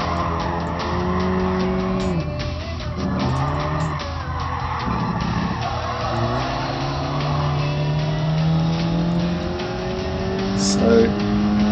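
Race car engine in Gran Turismo Sport, maxing out second gear before chugging along in third: a loud, sustained engine drone with rising and falling revs and gear changes, with tire squeal and someone talking over it.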